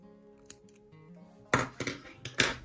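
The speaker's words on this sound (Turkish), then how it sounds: "ipimi biraz dikiş yapacağım için uzunca bırakıyorum ve kesiyorum" Scissors snipping crochet yarn, a few sharp cuts in quick succession near the end after a quiet stretch with faint background music.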